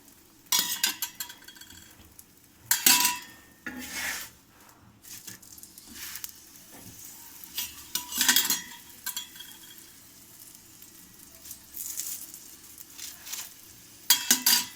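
Aloo paratha frying in oil on a pan, with intermittent bursts of sizzling and scraping as it is turned and oiled, quieter frying between the louder moments.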